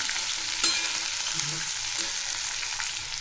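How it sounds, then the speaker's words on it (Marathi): Mixed vegetables, including bean seeds, frying in oil for bhogichi bhaji, a steady close sizzle with a few light stirring clicks throughout, no voices. "याला दोन ते तीन मिनिट तेलात फ्राय करायचं आहे"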